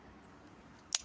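A single sharp snip of scissors cutting a bonsai branch, close and crisp near the end, after a quiet pause with faint background hiss.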